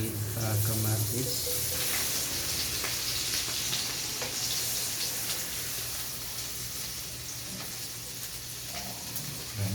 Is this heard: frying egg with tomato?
yes